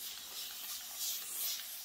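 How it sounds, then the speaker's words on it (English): A continuous-spray water bottle mists fabric on a chair being painted with chalk paint, giving a steady, quiet, unbroken hiss. "You just push the button, they just continue to spray."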